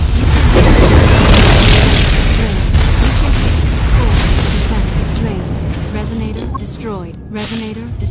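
Repeated booming blasts in the mobile game Ingress Prime as resonators are destroyed, loud and dense with overlapping explosions and a continuous rumble throughout.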